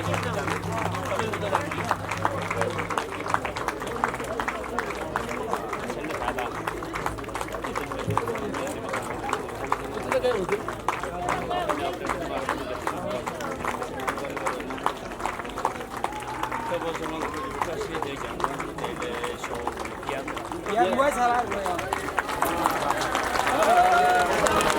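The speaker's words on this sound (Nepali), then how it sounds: "कृपया सम्पूर्णले जोरदार ताली बजाइदिनु होला" An audience claps steadily throughout a Chaurasi Pooja ceremony, a continuous dense patter of many hands mixed with crowd murmur and a voice speaking over it.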